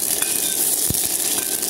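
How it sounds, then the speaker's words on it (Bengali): Fuchka shells fry in hot oil, a steady hiss and sizzle with a few faint clinks of utensils, close and continuous without talk. "এখন আমরা ফুচকা ভাজবো। ফুচকা ফুচকা, তেল গরম হয়ে গেছে রে।"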